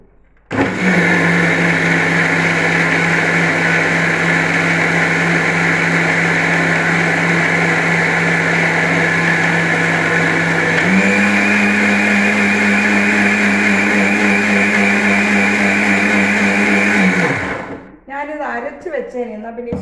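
A mixer grinder runs at a loud, steady whine as it grinds breakfast batter, its pitch stepping up partway through before it shuts off and winds down near the end.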